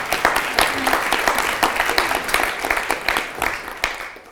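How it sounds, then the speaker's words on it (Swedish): An audience at a talk on city digitalisation gives warm applause to welcome the next speaker to the stage, a continuous patter of many hands that stays fairly loud and tapers slightly at the end. "Vi säger välkommen upp scenen Andreas Kron, och så ger vi honom en varm applåd"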